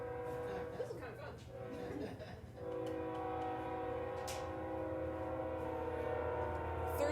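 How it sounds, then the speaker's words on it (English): A train passes outside a classroom, its steady rumble and horn-like tonal drone continuous for several seconds, joined partway by a louder sustained blast, with a voice talking over the start. "Oh, there's another train."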